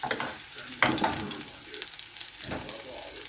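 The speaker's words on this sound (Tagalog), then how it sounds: "start po tayo sa ating pagigisa" Chicken tinola ingredients sauté in a pan with a soft steady sizzle, punctuated by a few clacks of a spatula stirring, close and moderately quiet.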